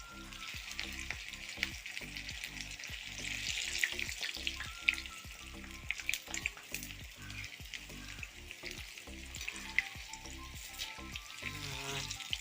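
Batter-coated panikoorka (Indian borage leaf) bhaji deep-frying in hot oil, a dense, continuous crackling sizzle with rapid bubbling pops throughout, close and steady.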